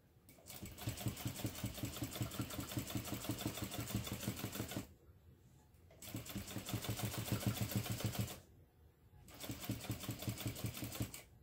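Sewing machine stitching a side panel seam on a travel bag, running in three loud sustained bursts of rapid, even needle strokes separated by brief pauses.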